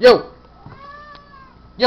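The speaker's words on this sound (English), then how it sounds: "that's just my cat there" A hungry house cat meows twice, loud and close, at the start and end of the moment, with a faint tonal sound between and a brief word from a person.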